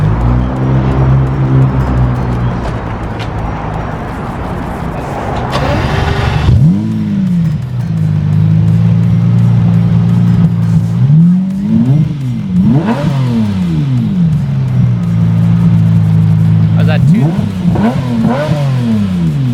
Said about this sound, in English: I want to hear that V12